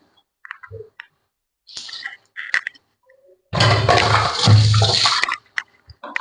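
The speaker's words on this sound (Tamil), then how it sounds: "கொஞ்சம் ஒரு டம்ளர் தண்ணி நான் ஆட் பண்ணிக்கிறேன்." Water from a tumbler splashes into a pan of egg curry with sautéed masala paste, a loud sustained pour of about two seconds after a few light kitchen clicks and taps.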